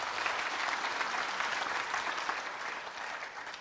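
An audience at a university entrepreneurial fair gives the chief guest a round of applause, with steady, dense clapping that fades slightly toward the end, heard from some distance.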